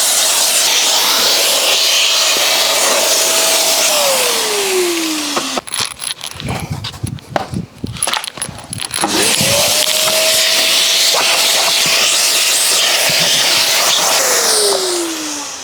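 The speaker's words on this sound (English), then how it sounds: "With the carpet, I'm gonna whack a vacuum on." A vacuum cleaner running on car carpet, a loud steady whine that pitches down as it winds off, then rough scraping and bumping as the nozzle works the carpet before the motor spins up again.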